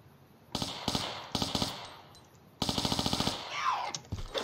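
Uzi fire in a Tomb Raider level, heard as three rapid bursts of automatic gunshots, the last the longest, with game sound effects fading out after it.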